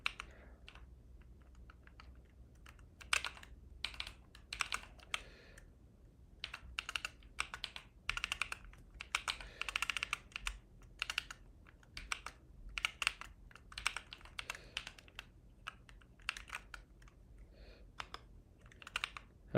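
Typing on a computer keyboard, quick irregular bursts of faint key clicks with brief pauses, close and alone.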